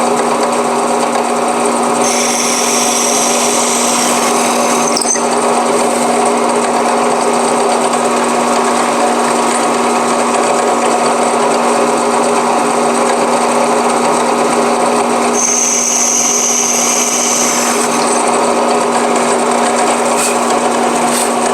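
A peghead bushing reamer in a power drill cutting into a maple guitar headstock, a steady high motor whine with a grinding, buzzy edge that runs continuously and loudly up close, with no voices.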